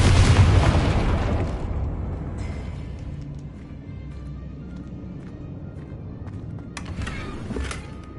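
A Confringo blasting spell goes off in Hogwarts Legacy with a loud, close boom at the start, a low rumbling decay afterward, and a smaller burst near the end.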